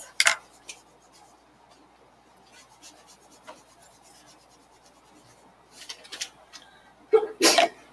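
A loud sneeze in a classroom during a geometry lesson, followed by a second sharp sneeze burst, with quiet rustling and faint scratching of writing between them.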